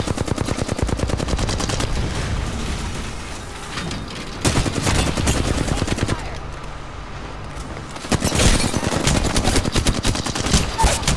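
Rapid automatic gunfire from the battle-royale shooter Apex Legends plays as dense, sustained machine-gun bursts in several loud volleys with brief gaps between them, with talk faintly in the background.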